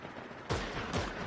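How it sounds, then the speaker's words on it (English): Gunfire in a video game, two loud broadband bursts about half a second apart over a steady noisy game background, with no talk. "Okay, so I'm still shooting at kids."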